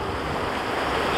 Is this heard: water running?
yes